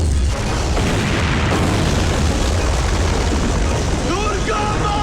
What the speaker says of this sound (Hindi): आर्यन फायर करो.